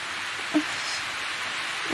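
Heavy rain in a drama scene makes a steady, even hiss throughout, with one faint low knock partway through and no voices.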